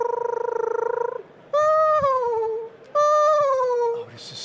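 A human voice imitates a bird's distinctive call with three whistled phrases, a wavering held note first, then two longer sliding, descending calls, clear and close against a quiet background.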